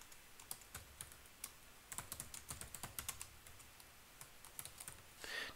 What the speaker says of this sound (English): I'm going to type in my old tagline